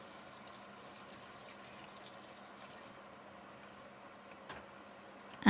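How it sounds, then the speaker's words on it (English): Water poured into a cooking pot of thick coconut milk gives a faint, steady trickling stream with a louder splash at the very end. "Add the water into the pot."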